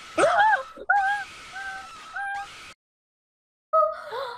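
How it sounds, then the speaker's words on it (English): A cat meows several times close by, a sharp first cry followed by drawn-out, wavering mews, then a short pause before a final plaintive meow. "The cat's cuter than you."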